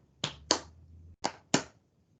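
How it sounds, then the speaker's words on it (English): Hands in gloves clapping up close: four sharp, dry claps in two quick pairs with a short pause between them, and no voices. "When you clap your hands"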